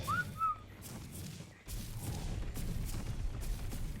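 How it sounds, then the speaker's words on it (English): A short rising whistle command sounds in the video game Ark Survival, brief and clear at the start, followed by low rumbling game ambience and thuds. "Whistle follow all."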